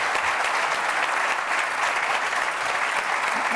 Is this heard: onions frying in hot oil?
no